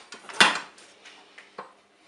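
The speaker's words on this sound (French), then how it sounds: "Avec un départ immédiat, on peut fermer le couvercle." A Cookeo multicooker lid is shut with one sharp clunk, followed by lighter plastic and metal clicks and a final latch snap, close by with no talk.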